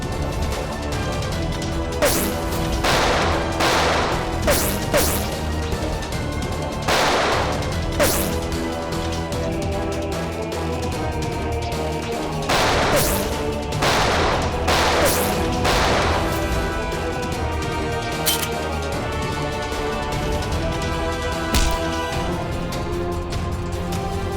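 Several irregular bursts of gunfire in a standoff at a haveli in a CID crime drama, sharp shots spaced across the stretch over a steady bed of dramatic music.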